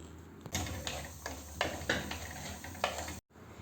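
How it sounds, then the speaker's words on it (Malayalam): A spoon stirs prawn roast masala in a pan, making repeated scraping and clinking strokes over a soft sizzle, close and moderately loud, ending in a brief cut to silence. "എന്നിട്ട് എല്ലാം കൂടി നല്ലവണ്ണം ഒന്ന് ഇളക്കി കൊടുക്കാം"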